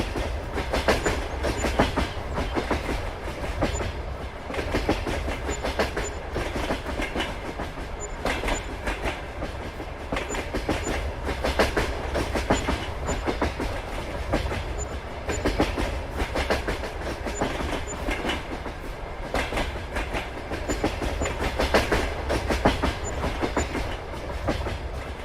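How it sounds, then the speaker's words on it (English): Train rolling past in Farming Simulator 22 on the Western Wilds map, a loud continuous rumble with rhythmic clickety-clack of wheels over rail joints, sustained throughout with no talk. "Train is very loud."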